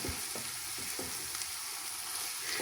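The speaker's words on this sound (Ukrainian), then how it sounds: "Я його все отак от добре просмажую." Onion and carrot fry in a pan for green sorrel borscht, giving a steady, fairly quiet sizzle broken by a rhythmic series of soft scraping stirs.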